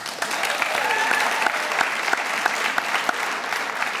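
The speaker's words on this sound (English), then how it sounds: "We can give them a round of applause as well." A seated audience at a high school senior awards night claps steadily for an honoree, a dense, even wash of applause in a hall with individual sharper claps standing out, holding at a constant level throughout.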